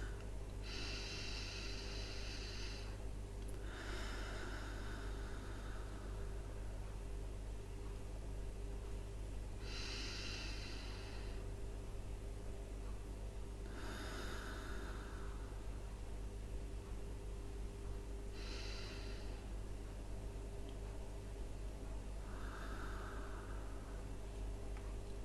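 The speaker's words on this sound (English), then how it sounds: "And just take 3 deep breaths." Slow, deep breaths during a guided calming exercise, three long airy inhale-and-exhale swells spaced several seconds apart over a steady low hum, quiet and close with no talking.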